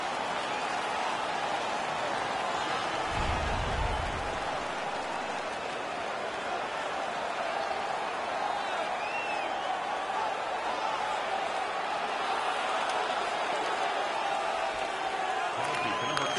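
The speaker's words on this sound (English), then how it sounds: "The home crowd is ecstatic. They're making all kinds of noise." Home crowd noise in an ice hockey video game: a steady, dense roar of an arena crowd cheering and making noise throughout, with a brief low thump early on.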